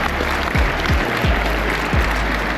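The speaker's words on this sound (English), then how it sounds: "let's give all them volunteers a round of applause for putting this together" An awards banquet crowd of trail riders applauds the volunteers, a steady, fairly loud patter of many hands with a few low thumps over a room's background hum.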